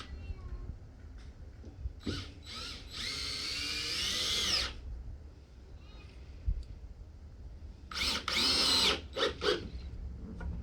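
A power drill drives deck screws into the wooden walls of a custom dumpster trailer in two separate whirring bursts, each rising and then stopping, with quiet gaps in between.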